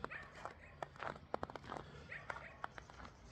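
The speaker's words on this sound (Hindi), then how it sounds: "यार ये कुत्ता क्यों भौंक रहा है मेरे पे।" A dog in Ata Türk park in Bishkek, Kyrgyzstan, gives a series of short sharp barks and yips at close range, scattered irregularly among footsteps.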